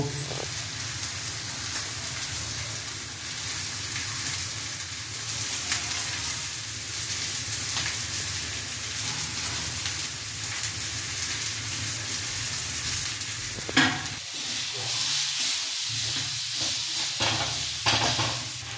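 Cumin, coriander and garam masala powders fry steadily with onion and chilli in hot oil for a fish ball curry, a close, continuous loud sizzle with occasional stirring scrapes near the end and no talk.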